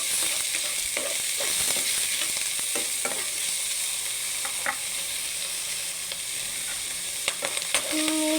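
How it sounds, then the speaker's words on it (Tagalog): Boiled, already tender meat sizzles and fries in a pan with steady hissing and intermittent scraping stirs, close and continuous with no talk. "ilagay na natin ang ating karne"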